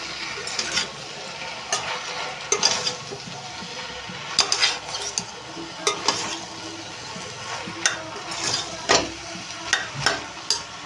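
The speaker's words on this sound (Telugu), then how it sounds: "బెండకాయలు వేసి ఒకసారి కలిపేసుకుందాం ఇవి కూడా ఫ్రై అవుతాయి" Okra frying in a pan for a dried-fish and okra curry, with a steady low sizzle broken by repeated scraping stirs and sharp clinks of a spoon against the pan.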